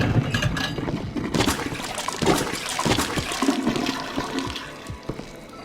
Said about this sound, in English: Trevor is flushing down the toilet